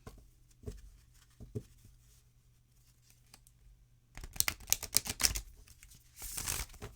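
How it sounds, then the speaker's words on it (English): Quiet stretch with a couple of soft taps, then a burst of rapid riffling and snapping as a deck of oracle cards is shuffled, ending in a final flutter. "Now, let's do a shuffle."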